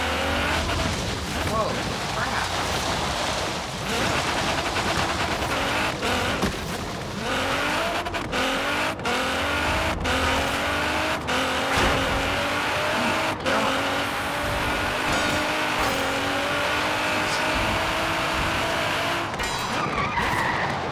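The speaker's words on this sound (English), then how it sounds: "Listen to the sound of motor. It sounds amazing." A 1990 Renault Alpine GTA Le Mans race build engine in Forza Horizon 3 screams continuously through repeated upshifts, its pitch climbing and dropping, with tire squeal mixed in.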